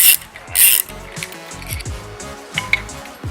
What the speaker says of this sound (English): So when you're taking this top bolt out of the strut, it's best to use a 6mm Allen wrench in there as well.